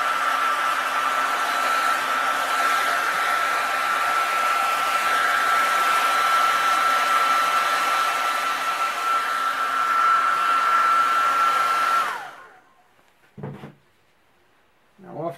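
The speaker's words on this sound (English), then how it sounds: "the hair dryer, will allow it to dry and dry flat" A hair dryer blows steadily and loudly for about twelve seconds, drying fresh paint on whitetail deer antlers, then cuts off, leaving brief handling knocks.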